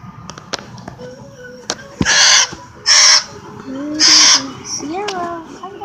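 A pet bird gives several loud, harsh squawking calls in separate bursts, close by, with a few softer chirps and whistles between them.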